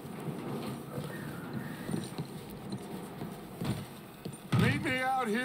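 Horse hooves clip-clop steadily under ambient noise in a blizzard in the video game Red Dead Redemption 2, followed near the end by a loud horse whinny with rising and falling pitch.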